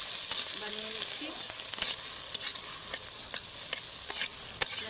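Vegetable ghonto with turmeric and salt is stirred in a pan, a soft continuous sizzle broken by repeated scraping clicks of a spatula against the pan, close and moderately quiet.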